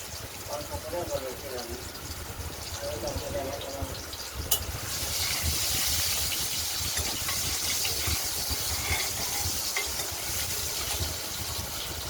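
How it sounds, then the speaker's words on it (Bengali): Hissing frying sizzle builds and holds steady, close up, with stirring noises early on. "কেটে রাখা আলুগুলোকে এবার ভেজে নিচ্ছি।"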